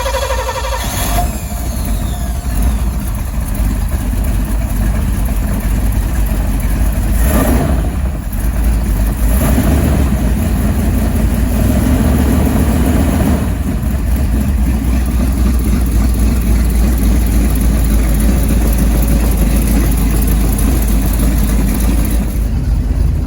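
A jet boat engine, unrun for about 15 years, is cranked and started, then holds a loud, steady rumbling idle close up, with a brief rise in revs early on and no talking.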